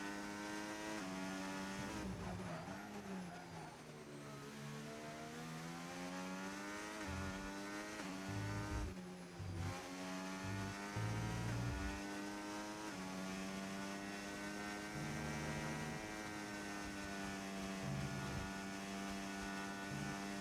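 A Formula 1 race car engine at full throttle in an F1 game at Belgium, a high sustained whine rising through gears with brief shift dips, loud and steady for the whole stretch.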